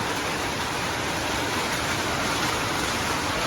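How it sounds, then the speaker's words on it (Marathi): Heavy monsoon rain in Mumbai pours steadily, a dense continuous hiss and patter with no breaks and no voices. "खूप जोरात पाऊस आलाय."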